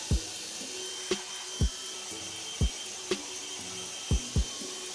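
A Dyson Airwrap blows steady hissing air through natural hair, a constant close whoosh broken by several soft low thumps, with no talk.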